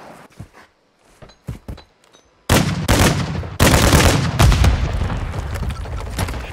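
Call of Duty Warzone DMZ gameplay erupts in loud, sustained gunfire and booming bursts after a few quieter footsteps and scattered shots.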